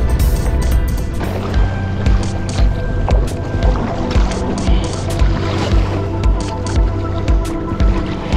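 Sea kayak paddling off Shetland in a strong, steady wind, with continuous broadband wind and water rush, small splashes and paddle strokes recurring at an irregular rhythm, close and fairly loud throughout.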